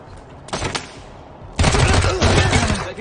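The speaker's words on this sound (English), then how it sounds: "Taking the shot." Heavy gunfire from the video game Wasteland 3: a short burst of shots, then a louder sustained volley of rapid automatic fire, close and dominant.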